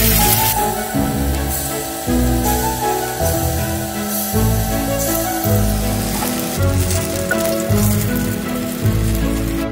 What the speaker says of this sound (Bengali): তেল তেতে গেছে, এবার আমরা বড়াগুলো ভেজে নেব।